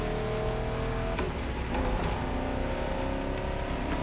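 The classic Eleanor car from the film Gone in 60 Seconds races against other classic cars in The Crew Motorfest on Xbox Series S, its engine giving a loud, steady roar with no speech.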